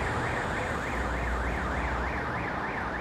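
A car alarm wails in a rapid rising-and-falling pattern, somewhat distant, over a low rumble of street traffic in Voronezh, Russia.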